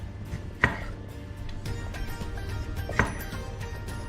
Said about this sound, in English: We're just going to chop it into cubes